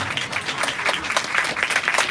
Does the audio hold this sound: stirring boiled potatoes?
no